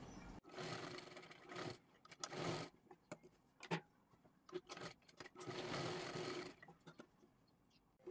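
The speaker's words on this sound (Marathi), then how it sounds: "व्यवस्थित ही पूर्ण आपल्याला शिलाई मारायची आहे" An electric sewing machine stitches the shoulder seam of a size 38 princess-cut blouse, running in short and longer bursts with quiet pauses between, fairly soft overall.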